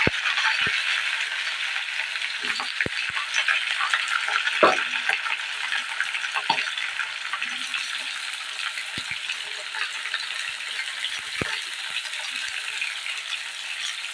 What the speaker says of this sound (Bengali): কালো জিরেটা দিয়ে আমি এর ভিতরে দিয়ে দেবো কেটে রাখা আলু আলুগুলো দিয়ে আমি সুন্দর করে ভেজে রাখবো